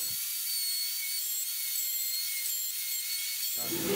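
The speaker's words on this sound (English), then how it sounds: "now I'm going to test out cutting a mortise" A router cutting a mortise on a Pantorouter XL with a damaged dust shroud produces a steady, loud, high whirring whine held for several seconds before cutting off near the end.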